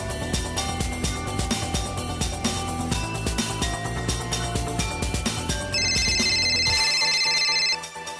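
Telephone ringing unanswered indoors: repeated ring bursts over background music, then a sustained bright electronic ring near the end, moderately loud with no one speaking.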